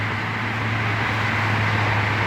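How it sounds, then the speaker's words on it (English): Car tires rolling on asphalt with no engine noise, a steady broadband road hiss with a low hum, heard from a terrace, continuous and even without any distinct passes. "this is mostly the sound of tires on the ground, tires on the asphalt"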